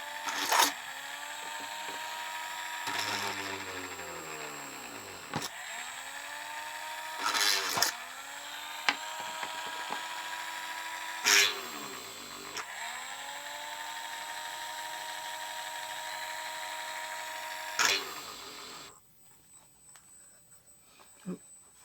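A power drill works on a DJH G5 model locomotive kit, whining in repeated short bursts that rise and fall in pitch as the bit bites and stalls, close and fairly loud, before cutting out near the end.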